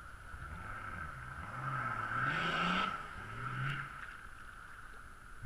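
A four-wheel drive vehicle pushes through a river crossing at rapids, its engine droning steadily and rising in revs, heard from a moderate distance with rushing water beneath.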